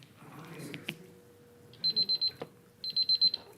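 A speaking-time timer at a city council meeting sounds two bursts of rapid electronic beeps, four to five quick pulses each, fairly clear over a quiet room with faint background talk.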